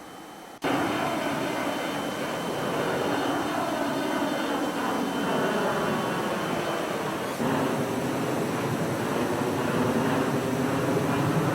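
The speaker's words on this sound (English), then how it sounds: "Yeah, the engine sound" Steady jet engine roar from an airliner in the X-Plane 10 flight simulator game, starting abruptly and holding a loud, continuous whine and rumble with a slight shift partway through, without talking.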